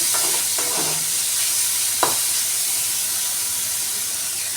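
Carrot and capsicum fry lightly in a pan with a steady, close hiss and sizzle, broken by a few soft stirring scrapes and one brief knock.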